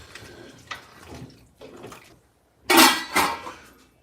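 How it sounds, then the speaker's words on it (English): Spoon stirring restaurant-style chili in a pot with wine added, a few scraping and clinking strokes with short pauses between, the last two louder and closer, no speech. "I just gotta stir it up."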